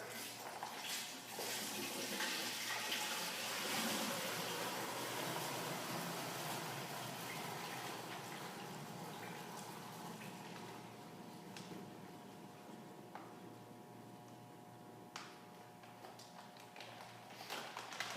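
Beer kit liquid pours steadily into a fermenter in a continuous splashing stream, a constant watery rush that gradually thins toward the end.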